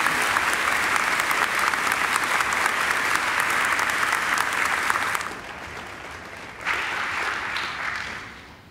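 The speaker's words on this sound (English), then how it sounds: "I think Michael deserves another great round of applause." A graduation audience applauds for a graduate named Michael. Full, dense clapping runs for about five seconds, drops briefly, swells again, then fades away.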